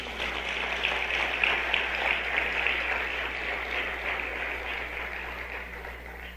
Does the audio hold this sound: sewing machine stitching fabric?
no